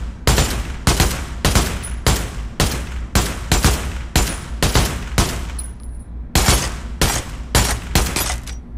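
Rapid gunfire in a VR shooter game played with a Protube gunstock: a steady run of sharp, loud shots about two per second, each crack followed by a short ringing tail, with no talking.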